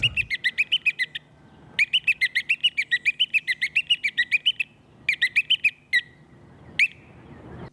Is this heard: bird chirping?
yes